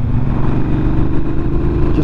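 A 2021 Triumph Speedmaster motorcycle engine revs loud and close as the throttle opens, giving a steady deep rumble with a rough, pulsing edge and no talk over it.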